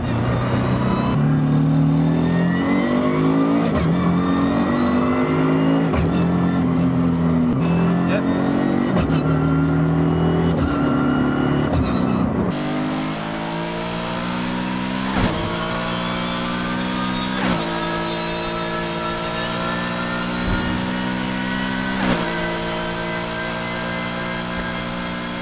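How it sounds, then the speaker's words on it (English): A BMW M3 GTR in Need for Speed Heat revs hard through a straight-cut gearbox, engine note climbing and dropping in repeated loud pulls with rhythmic shift breaks and a constant gear whine, close and continuous. "the straight cut gears in the Heat Gtr do sound a lot like some gearboxes you can get today"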